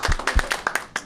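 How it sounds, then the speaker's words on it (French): An audience at a gathering for foreign workers claps, a brief burst of individual hand claps heard close and fairly loud, quickly fading. "je pense que ça vaut la peine de s'applaudir"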